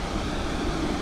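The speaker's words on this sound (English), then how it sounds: "you can see we got more of the white water that's more crazy than that back there" Outdoors along a trail in Buena Vista, Colorado, white-water rapids on a rocky river give a steady, dense rushing roar. Wind buffets the microphone.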